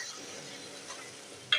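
Spices being stirred into tomatoes in a hot pan with Kashmiri red chili, giving a steady low sizzle and soft scraping throughout, with a brief sharper clink near the end.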